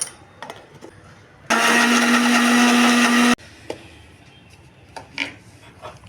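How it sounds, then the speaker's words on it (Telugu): A kitchen mixer grinder whirs loudly for about two seconds as it blends coconut, ginger and shallots with a little water into a smooth paste, starting and stopping abruptly between quiet stretches. "కొబ్బరి అల్లము చిన్నులపాయలు ఈ మొత్తం మూడు సమా భాగాలుగా తీసుకొని మిక్సీలో మెత్తగా పేస్ట్ చేసుకోండి"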